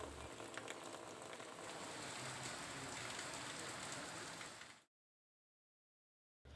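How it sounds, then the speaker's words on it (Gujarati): Steady, dense heavy unseasonal rain pours on a Gujarat village without letup for several seconds, then cuts off abruptly into silence before resuming at the very end. "સુરેલ સહિતના ગામોમાં ધોધમાર વરસાદ પડ્યો."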